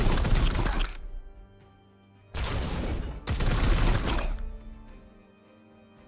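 Loud gunfire and shattering impacts from the turn-based game Warhammer 40K: Chaos Gate – Daemonhunters, heavy full bursts broken by brief gaps, with a quieter lingering tail at the end and no speech.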